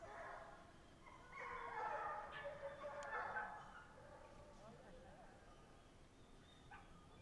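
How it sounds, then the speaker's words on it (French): Hunting dogs bark and yelp in the distance as they are let out during a weekend hunt in the Landes, the calls rising over a steady outdoor background with people talking nearby. "là, les chiens sortent là."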